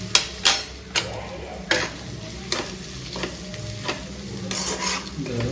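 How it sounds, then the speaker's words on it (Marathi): Spices with coriander powder are stir-fried in oil, with a spatula scraping and knocking against the pan in spaced, distinct strokes over a soft, steady sizzle, close by. "आता जरा तेल सुटेपर्यंत जरा परतून घेऊ"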